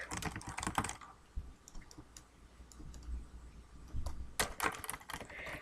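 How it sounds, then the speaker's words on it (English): Someone types junk on a computer keyboard in quick irregular bursts of close clicking keystrokes, a fast flurry, a pause with scattered taps, then another rapid run. "If I hit the edit for this that has nothing and just type a bunch of junk,"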